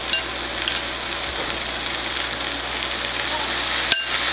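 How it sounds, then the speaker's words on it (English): Sausages frying in a hot pan as liquid goes in, giving a steady close sizzle with faint stirring clinks and a brief knock near the end. "You want to throw in 3 tablespoons of liquid?"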